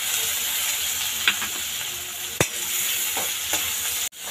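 Finely chopped onion and tomato sizzling in hot oil for a dhaba-style potato curry, a constant close frying hiss broken by a few sharp clinks of a spoon against the pan.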